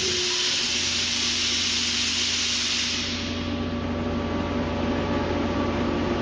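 An Ingersoll Rand 10HP rotary screw air compressor with an air dryer runs with a constant low hum and a broad airy hiss that eases slightly partway through, with no other sounds.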